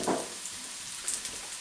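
Onion for a vindaloo curry sizzles and fries in a hot pan, a steady hiss with a soft crackle near the start and a brief scrape, close and moderately quiet, with no one speaking.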